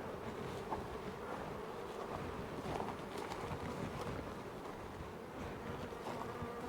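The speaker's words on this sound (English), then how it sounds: "That's how many bees are coming and going." Many bees hum continuously as they come and go around beehives, a steady close buzz with faint fluctuations and no talking.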